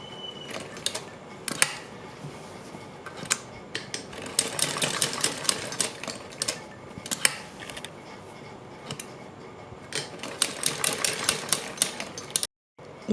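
Sewing machine stitching a salwar mohri design, with bursts of rapid mechanical clatter that start and stop repeatedly, close and fairly loud against a quiet room.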